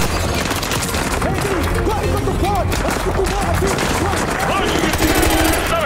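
Rapid automatic gunfire in Call of Duty Modern Warfare 2 Remastered, loud continuous bursts and scattered shots in a dense battle mix with a voice talking over it.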